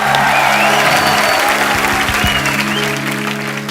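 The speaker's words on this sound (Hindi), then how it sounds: "तालियां पहले हो जाए जरा" Studio audience of a comedy talk show applauding, dense and loud from start to finish, with a sustained musical tone running underneath and the clapping easing slightly toward the end.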